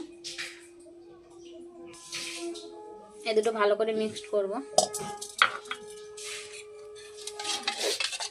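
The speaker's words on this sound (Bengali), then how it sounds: "এখানে 2টো ডিম আছে, এই দুটো ভালো করে মিক্সড করব।" Two eggs beaten together in a bowl for a homemade fruitcake give scraping, clinking utensil strokes in uneven bursts, close by, with a person talking over much of it.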